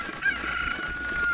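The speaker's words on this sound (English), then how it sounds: "We need this chicken" A cucco, the chicken from the video game The Legend of Zelda: Ocarina of Time, gives bright, tonal clucking and crowing calls over a continuous game-audio bed, loud and unbroken.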